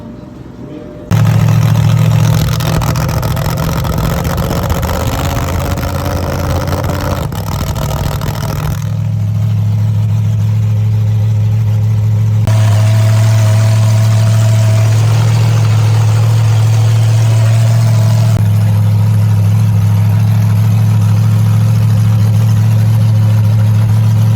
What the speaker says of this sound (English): Just idling a little high, dropped her down a couple hundred RPM